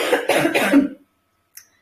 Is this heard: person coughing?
yes